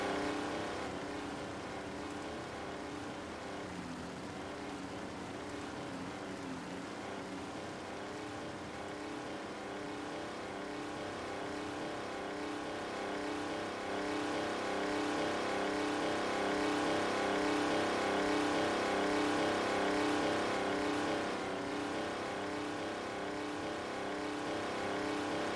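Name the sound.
loud tractor engine in Farming Simulator 19 video game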